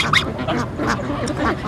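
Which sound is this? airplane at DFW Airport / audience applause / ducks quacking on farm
ducks quacking on farm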